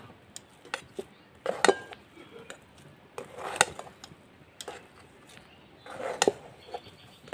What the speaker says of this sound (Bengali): সুজিটাকে নেড়ে চেড়ে একটা ডো তৈরি করে নেব